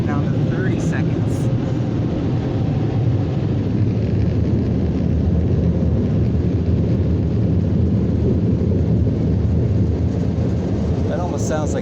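Powerful dryer blowers roar in an Autec EV1 touch-free car wash, giving a dense, constant rushing blast of air. The sound holds loud and unbroken for the whole stretch, with brief faint voices at the start and end.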